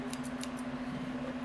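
Scissors snip at toy packaging with a few quick, faint, crisp cuts over a steady low hum, the snipping gone after the first half second.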